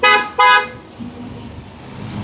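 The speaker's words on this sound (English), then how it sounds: "this honking." Car horn on a street, two loud, close honks in quick succession, followed by quieter traffic background.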